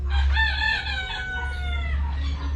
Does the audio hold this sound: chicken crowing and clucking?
yes